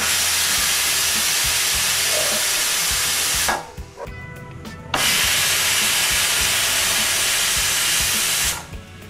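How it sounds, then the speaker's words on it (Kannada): A pressure cooker cooking egg biryani lets out two long, loud hissing steam whistles, each several seconds, separated by a short drop to a quieter kitchen background, close and without talk. "ಈಗ ಕುಕ್ಕರು 2 ವಿಸಲ್ಲು ಬಂದಾಯಿತು"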